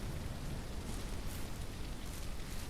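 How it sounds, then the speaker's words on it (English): Rain falls in the Ranch Simulator video game as a constant, dense hiss of drops that stays level throughout, with no talk. "I sure wish it would stop raining."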